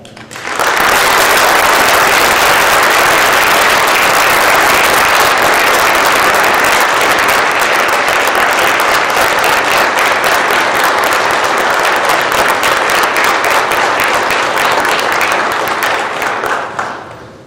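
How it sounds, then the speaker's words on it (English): Sustained audience applause at a 2018 FFA banquet, honoring a teacher's 15 years of service; loud, dense clapping fills the room steadily for the whole stretch, fading slightly at the end. "Would everyone please join me in an extra round of applause for Mr. Merkel and the 15 years he has devoted to FFA."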